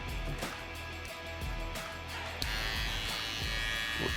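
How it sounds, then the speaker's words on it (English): An electric trimmer buzzes steadily up close while trimming a man's mustache in a barbershop, its hum shifting in pitch partway through as the blade meets the hair. "I'm just trimming his mustache"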